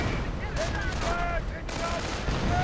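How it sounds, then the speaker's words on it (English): Battle audio from a WWII strategy video game, with rapid bursts of gunfire and artillery explosions layered into a dense, continuous din. A commentator talks over the fighting. "Artillery going down, and looks like this, yes, Pack 38 under fire."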